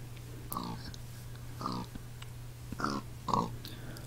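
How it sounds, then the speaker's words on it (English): Pigs in Minecraft give four short grunting oinks spaced out over a few seconds, soft and close, over a low steady hum with quiet whispering in between. "Oh, here we go. Some pigs."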